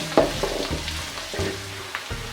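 Green peas fry in hot oil for a vangibath, a close, busy crackle and sizzle with a few spatula knocks and stirring sounds, and no voices.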